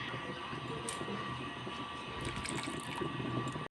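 Water pours steadily into a cooking pot for sambar, a continuous close splashing rush that lasts a few seconds without talk.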